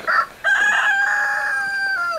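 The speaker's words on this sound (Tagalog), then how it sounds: "Ay, ang laki ng manok." A loud rooster crow close by, one long drawn-out call with a brief cluck at the start, clear and alone.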